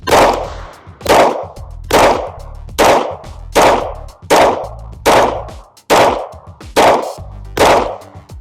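Handgun shots fired during a concealed carry qualification course at a shooting range, nine loud, sharp cracks spaced roughly a second apart, each trailing off in a short echo.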